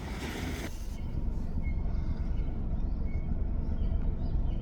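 Long freight train rolling past a rural road crossing in Marinette County, a steady low rumble of wheels and cars, loud and continuous, with a brief brighter wash of noise at the start.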